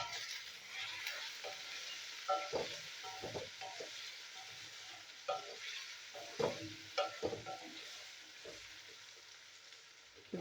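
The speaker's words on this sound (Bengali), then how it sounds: "তো এবার আলু আর পেঁয়াজটা একটু ভালো করে ভেজে নেবো।" Potatoes and onions with salt and turmeric fry in a pan, a soft continuous sizzle broken by repeated scraping stirs of a spatula, close and quiet.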